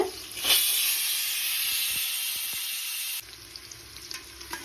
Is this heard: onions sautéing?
yes